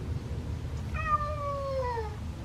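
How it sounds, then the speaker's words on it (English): A young cat lets out a single drawn-out meow, clear and close, over a low steady background hum. "It's a young cat."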